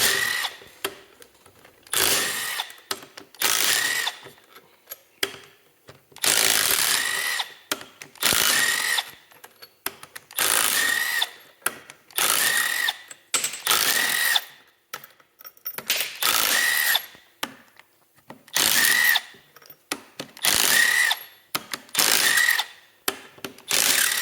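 Impact wrench rips bolts off a Polaris XLT triple engine, loud repeated bursts of whirring and hammering separated by short pauses, close up with no talking.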